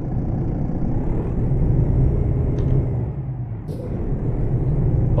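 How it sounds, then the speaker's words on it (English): Truck engine in Euro Truck Simulator 2 running with a regular, less open-piped exhaust tone, a steady loud low rumble throughout with a brief air-brake-like hiss partway through. "This is more of a regular engine sound."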